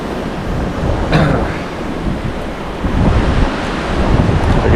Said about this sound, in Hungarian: itt ez a hely, hogy átfúj a szél